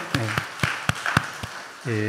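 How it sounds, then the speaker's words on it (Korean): A church congregation claps during a worship service, with sharp, separate claps at a slow, uneven pace and a voice heard briefly at the start and again at the end. "박수해 주세요"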